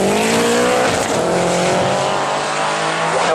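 Turbocharged Subaru drag car with a GT35 billet turbo, 2-litre engine and about 470 horsepower at 1.8 bar boost, roaring at full throttle down a quarter-mile strip, a loud continuous engine wail with rising pitch and no gaps.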